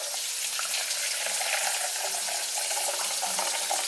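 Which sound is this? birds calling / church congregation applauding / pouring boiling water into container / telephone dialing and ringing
pouring boiling water into container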